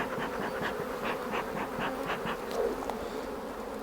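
Honey bees in an open hive give off a dense, continuous buzz, close and steady, with the wingbeat hum rising and falling slightly and no voices.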